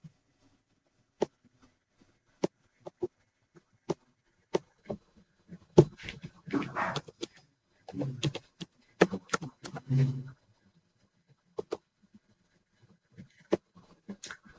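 The ipconfig command is typed on a computer keyboard, heard as sparse, sharp key clicks spread across the span, with a stretch of talking in the middle.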